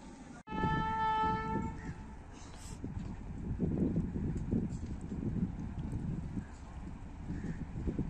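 The Rahman Baba Express, hauled by a PH20 locomotive, approaches Nur Junction on Pakistan Railways. A loud horn blast opens, followed by a growing rumble and rhythmic wheel clatter as the train draws near.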